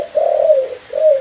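A spotted dove coos twice in a soft, mellow tone, the first note drawn out and the second shorter, clear and close with no other sounds.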